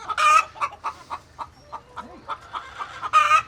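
Several chickens in a flock of about 200 birds, some of them molting, cluck and chatter loudly and close by in a steady, overlapping run of calls, with brief louder squawks at the start and end.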